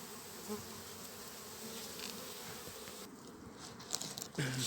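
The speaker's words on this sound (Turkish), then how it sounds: "havalandırma, kanat çırpma faaliyetleri" Honey bees fan their wings at a hive entrance on a cold autumn day, a steady close droning hum that holds throughout, with a few louder bumps and rustles near the end.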